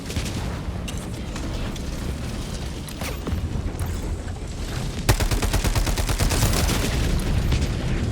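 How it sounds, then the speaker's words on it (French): Gunfire from a mecha in a video game, dense rapid bursts and booms that keep going throughout and grow heavier and louder in the second half. "Il y a un mecha qui me tire dessus."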